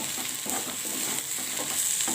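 Small new potatoes fry with black pepper in a pan while being stirred, a steady close sizzle broken by repeated scraping turns of the spoon, with no talking.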